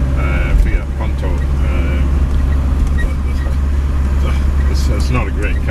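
Engine of a 1961 Hillman Minx 111B station wagon driving uphill, a steady low drone inside the cabin with people talking over it.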